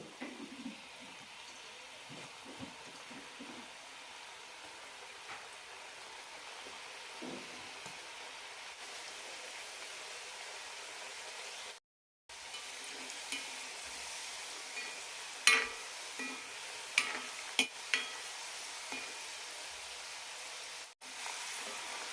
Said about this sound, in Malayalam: ഇതെല്ലാം വറുത്തെടുക്കാം മീഡിയം ഇട്ട് വറുത്തെടുക്കാം